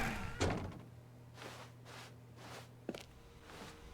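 A door opens in The Stanley Parable video game. Faint muffled thumps and a brief sharp knock sound against a hushed, hissy room tone.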